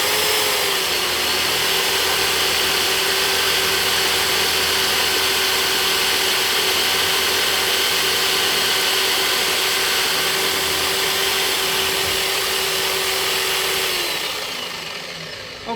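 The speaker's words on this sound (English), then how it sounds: "now I've drilled all of the 6 little holes in these plugs" A power drill runs steadily and loudly for about fourteen seconds, boring peg holes through small wooden plugs fitted into a guitar headstock, its pitch dipping slightly near the end before it spins down and stops.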